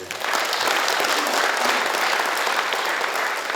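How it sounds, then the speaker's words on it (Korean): An audience at a provincial governor's town-hall forum in Seongju County gives steady, dense applause that holds at an even level from start to finish. "뜨거운 박수 부탁드리겠습니다"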